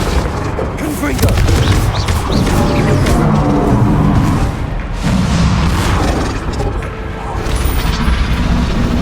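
Explosive blasts from the Confringo spell in Hogwarts Legacy, loud booming bursts amid dense combat noise, with a voice shouting during the action.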